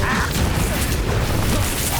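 Flipendo spell cast in Hogwarts Legacy on Nintendo Switch during combat, a dense rumbling mechanical whoosh with creaks and thuds, loud and continuous throughout amid busy battle noise.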